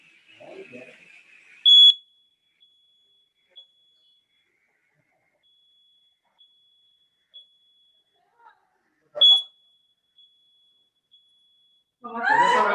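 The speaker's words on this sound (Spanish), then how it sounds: "Pues ya sabemos que sí sirve la alarma reflectante" An alarm is tested, giving short, sharp, piercing beeps spaced seconds apart, loud and close, with a steady thin tone lingering between them and brief voices and clatter before and after.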